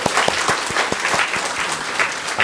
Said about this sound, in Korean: 우리 시간에 감사와 격려의 박수를 잠깐 보냈으면 좋겠네요